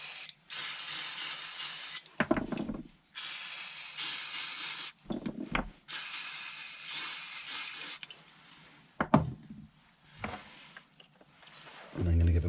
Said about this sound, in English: So I'm going to use a little bit of brake cleaner.